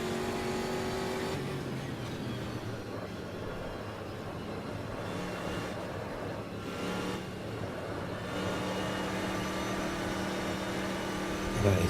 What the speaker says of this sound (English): let's get up to full throttle, top gear